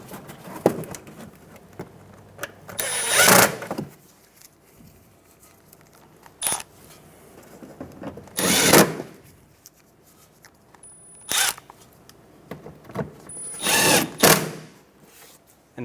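Bolts go onto the washer reservoir of a 2014-2019 Toyota Highlander. Several bursts of power-tool driving at close range come separated by quiet gaps, with small metallic clicks and handling noises between them.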